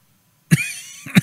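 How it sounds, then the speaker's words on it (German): A person coughs twice at close range while playing Life is Strange 2: a sharp burst followed by a short pause and a second cough, with no talk over it. "Und ich muss mal husten."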